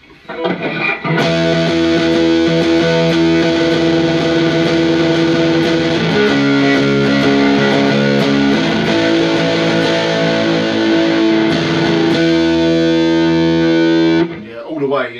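An electric guitar played through a TC Electronic Grand Magus distortion pedal at high gain rings out in thick, compressed, fuzzy sustained chords that shift every few seconds, loud and up close.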